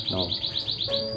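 Small emprit kaji finches kept in a home breeding setup give a quick run of high, thin chirps, several short repeated tweets close by over a faint low murmur.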